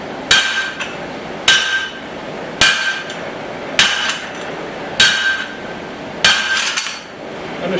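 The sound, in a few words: hammering hot steel on a guillotine tool, forging axe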